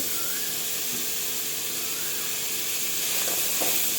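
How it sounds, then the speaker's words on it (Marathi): Onion roasting in salt in a hot pan gives a steady, close hiss and sizzle that holds level throughout, with no voices over it. "आता आपण त्याच्यामध्ये थोडंसं मीठ टाकून घेऊ आणि मिठामध्ये आपला कांदा भाजू"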